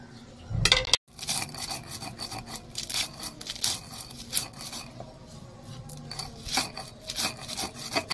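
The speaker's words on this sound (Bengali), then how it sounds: "তো আমি আগে ভাজা মশলাগুলো সব বেটে নেব।" Fried spices being ground into a paste on a grinding stone in a home kitchen, a steady rasping, rubbing scrape repeated in close strokes with brief pauses and no talk.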